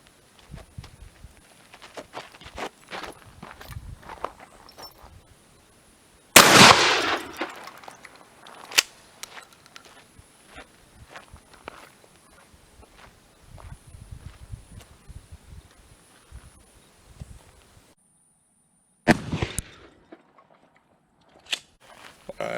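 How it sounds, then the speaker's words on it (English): A 12 gauge shotgun fires a 1 ounce Federal rifled slug at a sledgehammer outdoors: one loud, sharp blast, then a second shot much later, with scattered clicks and handling noise between them. "gonna shoot with a 12 gauge with the 1 ounce federal rifled slug"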